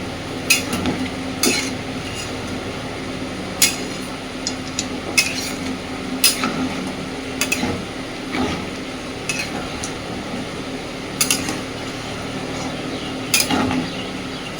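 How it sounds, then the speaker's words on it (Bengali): Jackfruit and prawn curry with potatoes stirred in a pan, a spoon scraping and knocking against the metal in irregular taps over a low steady sizzle, close and alone. "সব কিছুকে এবার ভালোভাবে মিশিয়ে দিতে হবে"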